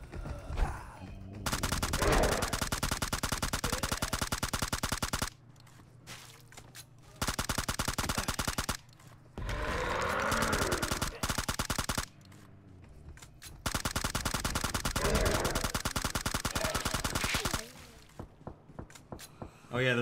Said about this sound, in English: we can hear their gunshots while they're fighting these zombies.